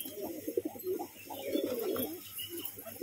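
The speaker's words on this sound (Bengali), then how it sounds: "বাহ, খুব সুন্দর একটা পায়রা" A fancy high-flying pigeon coos in soft, repeated throaty bursts close by, a low rolling rhythm that pauses briefly and resumes, alone with no voices over it.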